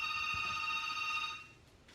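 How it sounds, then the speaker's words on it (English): A telephone rings with a sustained electronic bell tone that holds and then fades out, close by with no talking. "There's a phone ringing."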